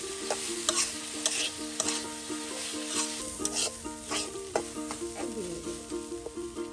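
Chopped potatoes fry in a pan with egg and dried chillies, a steady sizzle broken by repeated scraping stir strokes and clinks, up close and without talk.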